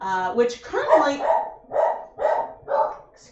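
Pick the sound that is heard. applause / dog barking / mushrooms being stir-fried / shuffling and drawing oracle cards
dog barking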